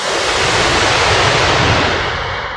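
Steady, loud roar of sea surf with breaking waves washing continuously, broadband and close, with no voices.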